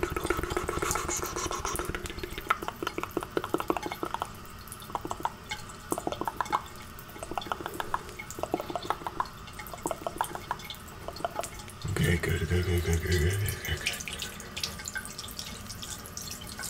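Water runs steadily from a barber shop sink tap as hair is rinsed, a continuous splashing hiss with drip-like ticks, growing louder and fuller toward the end.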